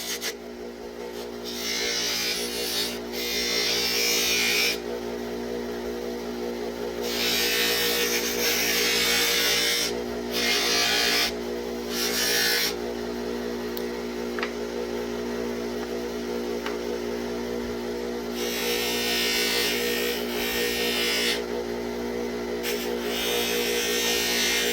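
A silver ring is buffed with cheap Harbor Freight polishing compound on a motorized polishing wheel, giving a steady whirring hum with repeated bursts of harsh rubbing and rasping as the piece is pressed against it and pulled away.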